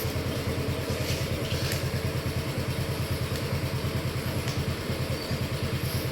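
A Honda Dream motorcycle engine idles nearby with a steady, even putter and light mechanical clatter, running continuously without any voices.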